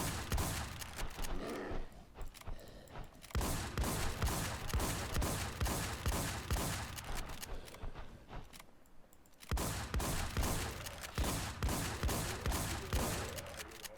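Rapid automatic gunfire in a shooting video game, a weapon dealing around 125 damage per shot, firing in dense sustained bursts with brief pauses near the two- and nine-second marks, loud and continuous with no talk.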